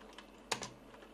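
A keycap is pulled off a Royal Kludge G87 mechanical keyboard with red switches, giving a short sharp plastic click and a softer second snap, close and alone in a quiet room.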